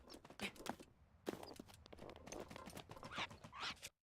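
Horse hooves clip-clop in Zelda: Breath of the Wild, a steady walking rhythm of close, moderately loud hoof strikes with a brief whinny-like burst, stopping abruptly near the end.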